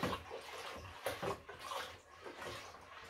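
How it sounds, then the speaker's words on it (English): Honey being vigorously stirred into water for spiced pear mead, irregular sloshing and swirling splashes with bursts of churning, close and continuous. "Continue stirring vigorously until all that honey is mixed."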